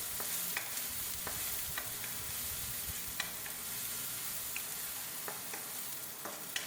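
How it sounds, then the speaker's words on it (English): Garlic and onion sauté in oil, crackling and sizzling steadily in a pan, with occasional sharp pops and a few scraping stirs, close by and fairly loud. "I'll heat a little oil in a pan and saute the garlic and onion until they're fragrant."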